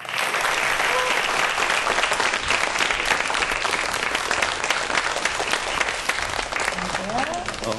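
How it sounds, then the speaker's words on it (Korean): An audience at a televised science lecture on microbes claps to welcome a university professor onto the stage: a loud, dense, sustained round of applause from many hands lasting several seconds. "박수 부탁드립니다."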